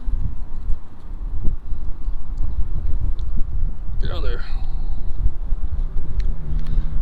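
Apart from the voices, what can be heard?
wind blowing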